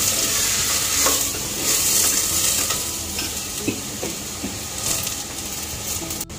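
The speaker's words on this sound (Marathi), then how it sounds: "आता आपण यामध्ये ह्या सगळ्या भाज्या घालून घेऊ।" Chopped vegetables stirred and sautéed in a pan for a soybean pulao, a loud continuous sizzle and hiss with repeated scraping and knocks of the spoon against the metal, close up, no one speaking.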